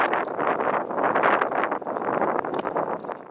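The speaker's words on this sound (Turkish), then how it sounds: "Saatte 70 ila 90 kilometre hıza kadar çıkan fırtına nedeniyle bazı yerlerde de toz bulutu" A strong storm wind in Konya, with gusts reaching 70 to 90 km/h and raising dust, roars steadily as a dense, continuous rush with no voices.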